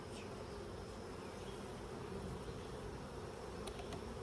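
Honey bees buzz around an open hive while a colony is moved off its box, a dense, steady swarm drone that fills the whole stretch with no talk.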